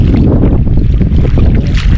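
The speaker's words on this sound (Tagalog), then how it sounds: "sobrang lakas ng hangin mga idol" Strong wind on a seashore buffets the microphone in heavy, continuous gusts, a loud low rumble that swells and dips without a break.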